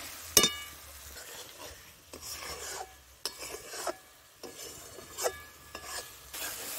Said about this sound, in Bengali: এই যে গুঁড়ো মশলার পেস্টটাকে ঢেলে দেব।